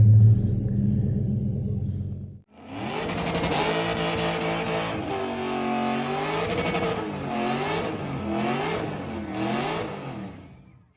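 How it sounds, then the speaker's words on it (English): A red Chevrolet Camaro starts up with a loud, close rumble after a brief quiet stretch, then revs repeatedly, its engine note rising and falling in rhythmic surges as it is driven out. "My dad pulled the Camaro out."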